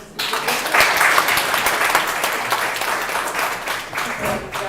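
A prayer meeting audience breaks into sustained applause, loud and broad, with many hands clapping together for several seconds and a faint voice surfacing beneath the crowd noise.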